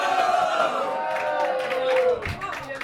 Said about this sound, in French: faites un maximum de bruit pour Arthur